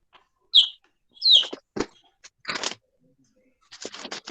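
Small chick giving a few sharp, high peeping chirps at intervals, close by, mixed with brief rustling and crunchy clicks, no talk.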